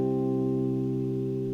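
A Rhodes electric piano break from a progressive house track, played with the Addictive Keys Mark 1 Warm Tines preset, holds a warm, sustained chord at a steady level throughout, with no talking.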